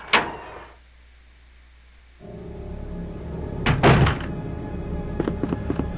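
A door opens in the survival horror game Resident Evil 2, a short solid thunk followed by a quiet pause, then a louder burst of clunks and creaks over a background game ambience.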